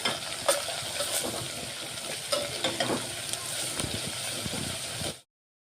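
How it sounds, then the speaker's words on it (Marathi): Ginger garlic paste fries in a pan with a continuous close sizzle and crackle, and a few soft stirring scrapes run through it before the sound cuts off abruptly. "फक्त कच्चेपणा जाईपर्यंत अदरक लसूण शिजू द्यायचं आपल्याला"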